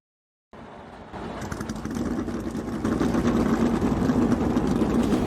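NASCAR race car engines fire up one after another in a video game Daytona 500, the rumble stepping up in layers from silence into a loud, dense idling roar.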